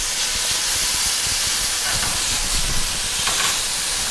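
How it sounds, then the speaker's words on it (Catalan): Wild mushrooms (cama-secs) sautéing in a frying pan, a steady close hiss and sizzle that holds loud and even for the whole stretch, with no voices over it. "els posarem a la paella i saltejarem una mica."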